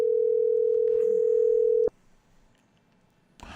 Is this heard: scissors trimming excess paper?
no